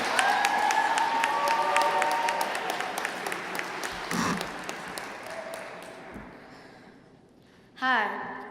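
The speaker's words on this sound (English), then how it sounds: "Can I get another round of applause for Keem" A youth speak-out audience gives a round of applause, steady clapping that gradually fades out, with voices under it and a brief loud vocal burst near the end.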